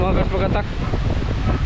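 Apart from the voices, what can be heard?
strong gust of wind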